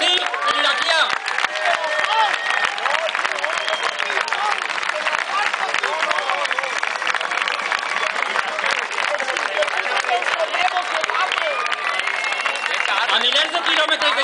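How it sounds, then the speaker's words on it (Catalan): Crowd at a street demonstration in Alicante applauds steadily and loudly throughout, a dense wash of many hands with some voices mixed in, sustained without a break. "Un fort aplaudiment pel poble kurd, el saharaui, el palestí i l'iraquià."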